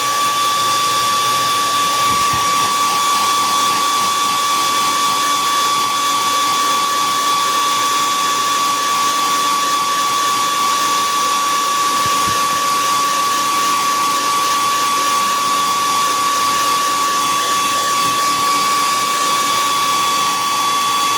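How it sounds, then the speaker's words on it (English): A hair dryer blows steadily on a painting to dry wet paint, a loud continuous close whir with a high whine running unbroken throughout. "We're gonna do a little drying on this."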